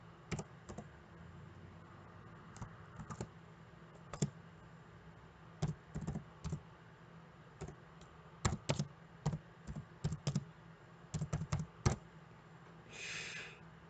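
Computer keyboard being typed on in quiet bursts, faint close clicks of keys in irregular clusters separated by short pauses, with no talking.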